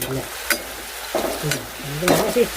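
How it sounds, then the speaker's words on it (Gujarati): Papdi dough drops into hot oil and sizzles loudly, a steady frying hiss close by with occasional stirring clatter and splashes. "તેલ ગરમ થઈ ગયું છે નાખી દઈએ"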